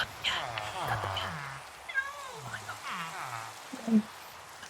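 A cat meows several times in the Minecraft video game. The short, rising game cries come over a rainy background, with a person talking under them.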